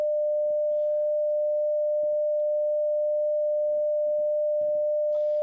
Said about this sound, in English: We got the first step, making a sine wave.